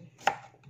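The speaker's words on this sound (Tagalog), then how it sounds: "hiwain natin ng maliit." A knife chops Baguio beans on a cutting board, one sharp close chop standing out in a short, otherwise quiet moment.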